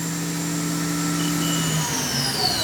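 A Haas VF-3 vertical machining center spindle runs at 10,000 RPM, giving a steady close whine with sustained tones and an airy hiss underneath, one high tone slowly gliding downward toward the end.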